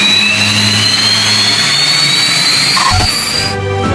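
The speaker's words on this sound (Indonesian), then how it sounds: "Amerika lebih memilih menggunakan mesin turbin multi bahan bakar bernama Honeywell AGT 1500" Honeywell AGT 1500 gas turbine of an Abrams tank running, a loud steady whine with a rising high tone over low engine drone, shifting briefly near the end.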